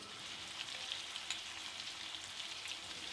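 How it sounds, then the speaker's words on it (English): Duck curry with red chilli paste fries in a pan on a high flame, giving a steady, crackling sizzle with small spitting pops, close by and continuous, and no one speaking. "Stir and cook it on a high flame for 5 to 10 minutes."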